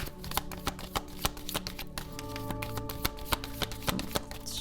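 Tarot cards are shuffled close by, a quick run of crisp flicking taps, fairly quiet against a low background hum.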